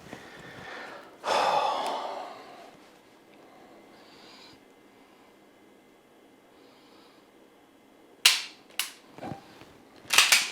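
Handgun shots crack at a live-fire range session, a few loud sharp reports spaced out near the end after a breathy exhale and a long quiet stretch.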